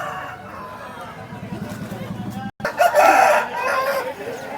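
At a rooster market in Vijayawada, a rooster crows loudly and close by, with other fowl and a bustling crowd murmuring in the background.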